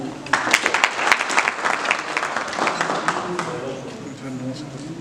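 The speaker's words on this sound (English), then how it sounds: "a big honor of clapping for Ms. Agrawal." Applause from the audience at a dealer meet event in Bagmati Province: dense clapping starts at once, holds fairly loud for several seconds, then thins and fades toward the end, with some voices underneath.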